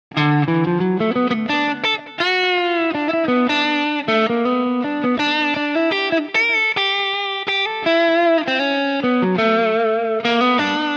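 Distorted electric guitar plays a continuous, fluid lead line over major I-IV-V chord changes, with quick chromatic runs and bent notes, bright and effects-laden, alone without any voices.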